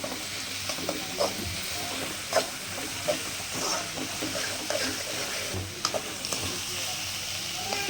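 Egg stir-fry (muttai poriyal) sizzles steadily in hot oil in a pan, a dense continuous crackle and hiss punctuated by the scrape and clatter of a spatula stirring, close and loud throughout.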